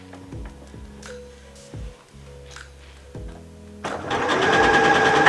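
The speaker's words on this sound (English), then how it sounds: "And then continue to sew." A sewing machine stitches a cushion cover in short slow bursts of low mechanical chugging separated by pauses, then settles into a louder, continuous whirring run of stitches, close by.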